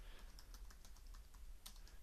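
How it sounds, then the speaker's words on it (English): Fingers type rapidly on a computer keyboard while entering a new database record, producing quiet, close, irregular clicking keystrokes with no voices. "And we can start typing in here."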